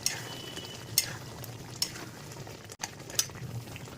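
Butter going into a frying chicken malai kofta curry in a pan, with a soft sizzle under sharp clinks and scrapes of a spoon against the pot at a few irregular moments.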